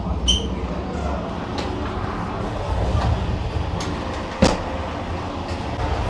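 The Sangam Express, running Subedarganj to Meerut City, stands at a station platform with a steady low rumble of idling rolling stock and a few faint clanks, plus one sharper clack partway through.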